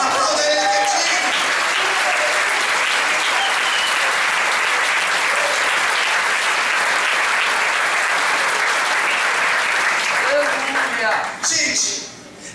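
Church congregation applauding during a worship and praise seminar, sustained loud clapping filling about eleven seconds before tapering off at the end.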